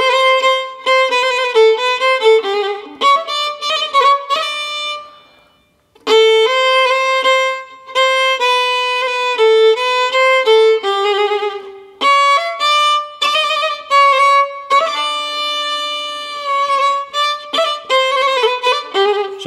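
A solo violin plays a fast, ornamented Sârba creață dance tune in a dense stream of notes, broken by one brief pause. It sounds loud and close, with no talking.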